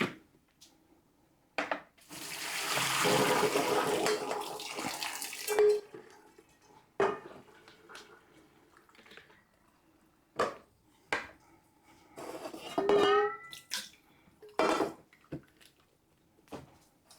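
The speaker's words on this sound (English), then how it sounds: "I'm going to go over to my sink and drain them" Cooked spaghetti noodles are poured out at a kitchen sink: a loud rush of water and steam for a few seconds, then scattered clanks of a pot and utensils with quiet gaps between.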